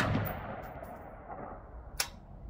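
An AR-15 rifle fires a single shot at a steel target 100 yards away, a short sharp crack near the two-second mark above steady outdoor background noise.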